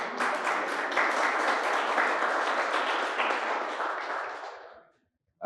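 A lecture audience breaks into dense, sustained applause that holds steady and then tapers off before a brief silence, with no voices over it.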